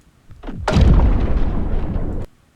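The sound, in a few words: large underwater explosion sound effect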